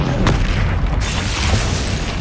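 A loud, booming fire-blast explosion from the Confringo spell in a Harry Potter video game, a sharp burst followed by a sustained roaring rumble that fills the clip.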